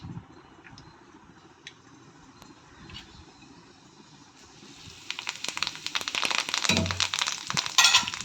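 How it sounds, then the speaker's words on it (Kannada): Curry leaves, mustard seeds and cumin hit hot oil for lemon rice, starting as faint scattered pops over a low hiss, then building into a loud, dense crackling sizzle with sharp spits near the end. "ಆಯಿಲ್ ಕಾದ್ಮೇಲೆ ಕರಿಬೇವು, ಸಾಸಿವೆ, ಜೀರಿಗೆ ಹಾಕ್ತೀನಿ."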